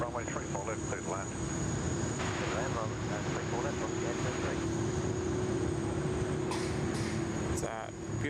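A jet landing on runway 34 left at Sydney Airport gives a steady, moderately loud engine roar, with a voice from the control tower radio speaking over it.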